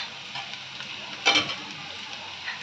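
Ground spices, including Kashmiri chili, coriander, cumin powder and turmeric, sizzle and fry in a pan while being stirred, with a steady hiss and one brief louder clink of the spoon partway through.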